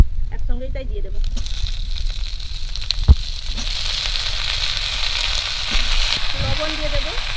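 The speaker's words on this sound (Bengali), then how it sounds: "পেঁয়াজটা আমি হালকা ব্রাউন কালার করে ভেজে নিয়েছি, আর বেশি ভাজবো না, আমি সবজিগুলো আলাদা করে ভাজি নিই" Vegetables fry in a pan with lightly browned onion, giving a continuous close sizzle and hiss with a few stirring knocks. A voice speaks briefly at the start and again near the end.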